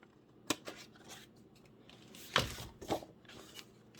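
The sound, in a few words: scissors cutting scored paper on a diagonal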